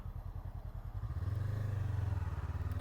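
A 2016 Honda CB500F motorcycle engine pulses steadily while riding, a close, throbbing parallel-twin note that rises and holds as the bike accelerates.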